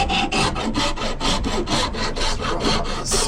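A coarse wood rasp scrapes across the surface of rotten wooden boat planking, about ten quick back-and-forth strokes in a steady, close, loud rhythm.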